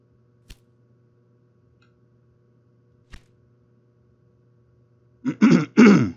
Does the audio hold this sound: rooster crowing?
no